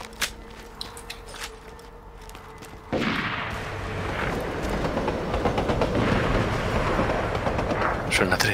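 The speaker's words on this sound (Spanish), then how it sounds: "Suena a tren, suena a tren." A train in the video game Borderlands 2 rumbles in suddenly after a quieter stretch, building into a loud, sustained rolling roar with rattling clatter that continues to the end.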